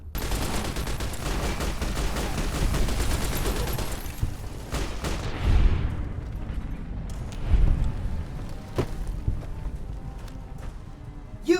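NCR gunfire in the video game Fallout: New Vegas, a rapid fusillade of overlapping shots that thins into scattered single cracks and booms, loud and close.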